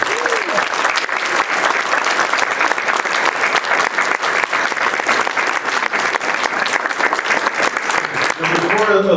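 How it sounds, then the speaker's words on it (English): An audience applauds at a city council candidate forum, a full, steady round of clapping, fairly loud and close, with a voice briefly emerging as the clapping ends. "Let's give them a round of applause."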